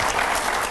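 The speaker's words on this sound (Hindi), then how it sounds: "जोरदार तालियां होनी चाहिए" A studio interview audience claps loudly and continuously, a dense wash of applause with no pauses.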